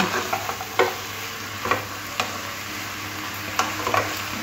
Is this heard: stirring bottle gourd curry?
yes